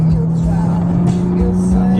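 Inside a 2016 V6 Dodge Challenger accelerating onto a freeway, a steady engine drone and road rumble fill the cabin, with some background sound mixed in.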